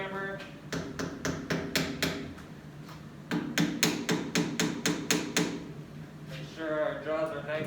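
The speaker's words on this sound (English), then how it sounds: "get our hammer" A hammer taps metal tensile tester jaws closed on a PLA dog-bone specimen, two runs of rapid, sharp, evenly spaced knocks close by, with faint background noise and a brief voice near the end.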